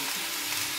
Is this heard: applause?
no